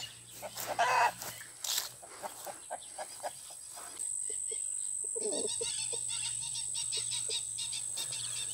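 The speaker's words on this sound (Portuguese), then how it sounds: "Olha a galinha ali" A chicken clucking outdoors on a farm, with a series of short, fairly faint clucks and calls in an uneven rhythm, then a steadier background hum as a person speaks briefly nearby.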